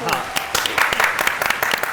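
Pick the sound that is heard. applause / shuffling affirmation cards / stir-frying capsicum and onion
applause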